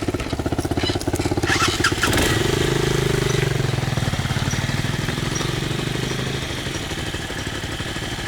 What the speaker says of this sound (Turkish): Ses yapıyor bak tıkır tıkır diyor.